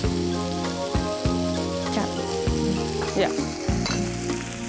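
Garlic cloves and green chillies frying in hot oil with turmeric in a pan, a loud, dense crackling sizzle throughout, with a steady low hum and occasional stirring scrapes.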